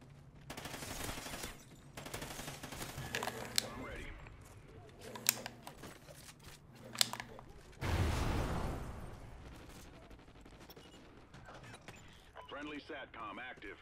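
Vector submachine gun bursts in a Call of Duty: Ghosts team deathmatch, several rapid volleys spread across the clip with a loud blast midway, mixed with mechanical weapon clicks and a person talking.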